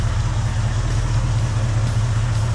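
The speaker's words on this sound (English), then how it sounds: "go ahead, fire her up" A 1967 Ford Mustang coupe engine idles with a steady, deep rumbling throb, loud and close, unbroken throughout with no talking.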